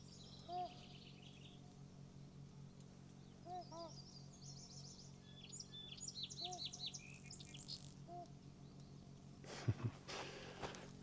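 Flock of birds calling outdoors from some distance, scattered chirps and short whistled calls that cluster into a busier noisy stretch, faint over a steady low background hum, with a brief louder rustle near the end.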